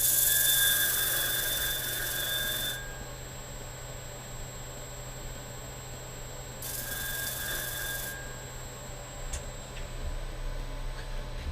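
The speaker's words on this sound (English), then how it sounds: "we want to grind all the pieces flat again, because the heat could have made some warps on it" Steel knife bolster pieces for a full-tang knife are ground flat, giving two harsh, loud grinding bursts, one at the start and another partway through, separated by quieter workshop hum.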